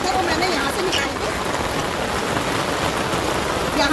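Heavy monsoon rain pouring down during a rain bath, a dense and constant loud hiss of drops hitting surfaces, filling the whole clip with no let-up.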